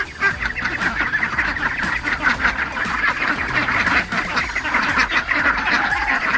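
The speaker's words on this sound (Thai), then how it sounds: "มาอัปเดตเป็ด ไข่พันกากีเข้มเบลอายุ 9 สัปดาห์ครับ" A flock of nine-week-old Khaki Campbell laying ducks quacks in a loud, continuous overlapping chorus of nasal honks, close by and steady throughout with no talking.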